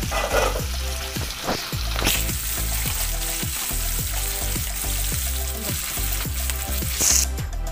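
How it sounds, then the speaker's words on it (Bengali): Onion fries in oil in a pan for egg curry with a continuous close sizzle, accompanied by a regular train of repeated clinks or taps throughout and no talking. "পেঁয়াজটা দিয়ে ভালো করে ভেজে নেব"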